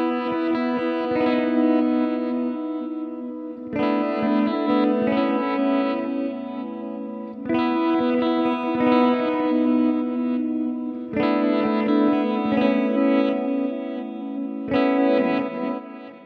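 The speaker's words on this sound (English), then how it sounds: "There are 5 new delay effects, including stereo tape, stereo digital, circular, dual, and dual reverse delays" A sustained synthesizer chord repeats in four long phrases through stereo delay effects, each tail echoing and smearing into the next like a spacious stereo delay.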